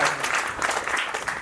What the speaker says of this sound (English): Put your hands together for my good friend, Mr. Justin Williams.